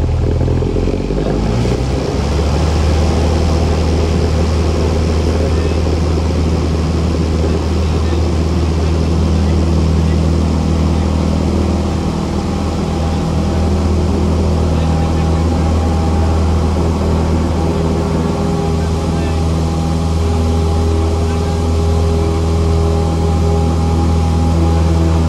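Small training airplane engine held at full power on takeoff, a loud, steady drone with a strong low hum and dense upper noise that persists without letup for the whole stretch.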